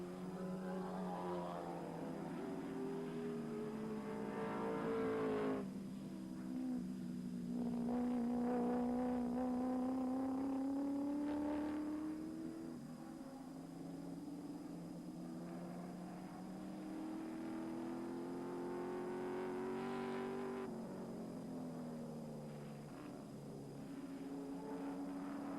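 Touring cars at a 1987 Australian Touring Car Championship support race at Oran Park circuit, a steady loud engine drone with pitch swells as cars pass and accelerate, continuous with no speech.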